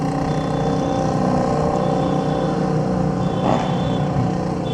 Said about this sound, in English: Those motorcycles always set off the car alarms.